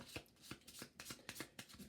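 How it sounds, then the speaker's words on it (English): Playing cards, technology cards for an Axis & Allies Global 1940 board game, being shuffled at close range in a quick run of riffling, flapping bursts with no talking. "Shuffling the cards."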